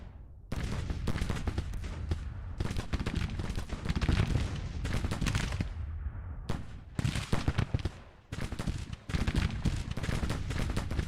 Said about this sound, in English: I'm guessing the 1st Brigade is shooting at you